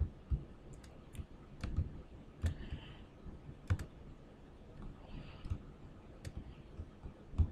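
Soft, close computer mouse clicks made while working in Prezi, spaced irregularly over a faint background hum with no voices.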